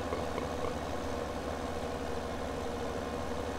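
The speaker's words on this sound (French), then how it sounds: "Je crois que le tracteur il en chie sa mère." A tractor engine in Farming Simulator 17 labours under load with a steady, low, rumbling drone, fairly quiet and unbroken, with no voices.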